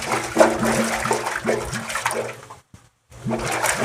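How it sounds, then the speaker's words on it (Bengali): Water rushing into a household biogas tank that has gone unused for a long time, a steady gurgling, splashing flow close by that breaks off into silence for a moment before starting again. "এই দেখুন জল আসছে"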